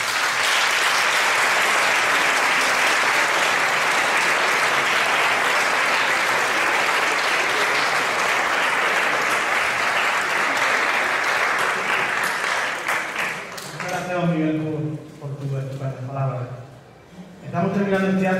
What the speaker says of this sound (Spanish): Recibamos con un gran aplauso a don Antonio García Cortecero.